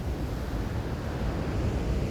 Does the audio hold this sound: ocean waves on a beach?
yes